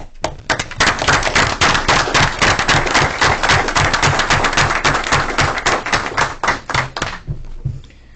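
A room full of people at a town council meeting applauds loudly, dense clapping sustained for about seven seconds before tapering off abruptly into quiet.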